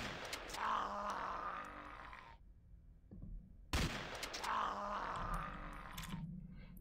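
Shotgun blasts in the sci-fi game Stellar Tactics at a mutant base, two loud bursts of gunfire with grunts and impact clatter, separated by a short near-silent gap.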